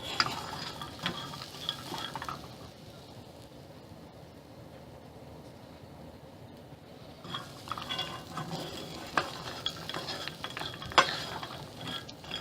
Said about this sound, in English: What we're going to do is cook this until it's all dry.